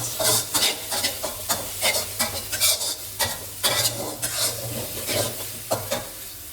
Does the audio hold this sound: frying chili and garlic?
yes